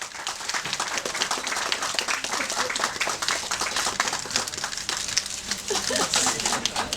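Crowd applause and clapping greeting Tiger Shroff on stage at a live website launch event, moderately loud and continuous throughout, with some cheering and scattered voices mixed in.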